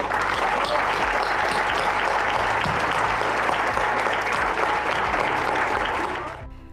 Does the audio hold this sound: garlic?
no